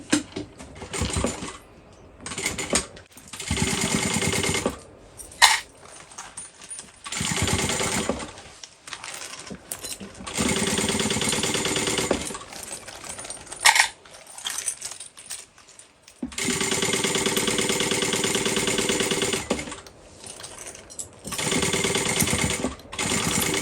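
A sewing machine bastes the lining of a bowler bag, running in loud bursts of rapid stitching separated by short pauses, close and without talk.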